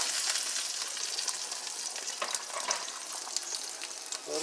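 Hot pan with sautéed garden chard sizzling loudly as vinegar is added to deglaze it, a steady bright hiss with small crackles and stirring scrapes, close and continuous.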